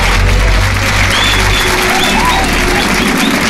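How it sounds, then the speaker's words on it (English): Loud, dense audience applause fills a club just before a live loop set, a steady wash of clapping and crowd noise with a low hum running beneath it throughout. "let's give a beautiful round of applause to all these crazy people up here"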